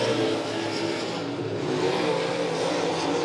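Late model race cars roaring around Monett Motor Speedway during a heat race, a dense, steady engine drone at full throttle as the leaders lap slower traffic, loud and continuous with no voices.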